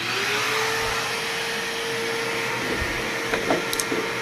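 A woodworking shop dust collection system runs at a router table, giving a loud, steady roaring whoosh with a constant motor hum throughout, and a few faint knocks and clicks near the end.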